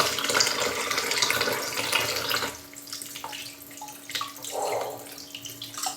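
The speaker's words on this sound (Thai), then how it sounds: "ล้างยางมันออกนะคะ" Tap water runs steadily over a giant mango to rinse off the sap, splashing close by for a few seconds, then stopping and leaving faint drips and light handling sounds.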